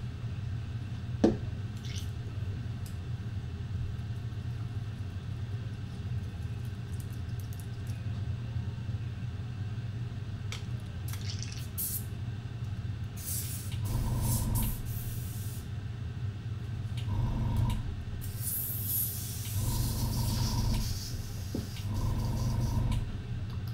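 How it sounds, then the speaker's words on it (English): An airbrush being cleaned gives several short bursts of spraying hiss, set apart by pauses, over a steady low hum of room noise. "Let me just clean the airbrush"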